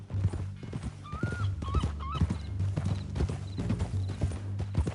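Steady clip-clop of horse hooves on a hard surface in the video game Red Dead Redemption 2, close and rhythmic, with a brief whinny partway through.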